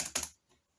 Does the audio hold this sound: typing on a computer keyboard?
yes